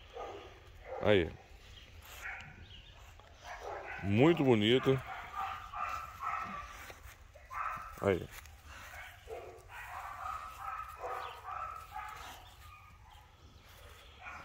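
Several dogs bark and yelp in short bursts, some loud and close, while a person talks intermittently in between.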